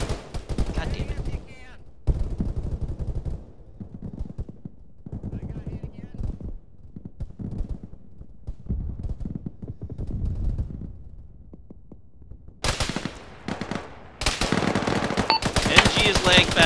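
Bursts of automatic machine gun fire in a military shooter game, loud sustained volleys at the start and again toward the end, with scattered quieter shots and talk in between.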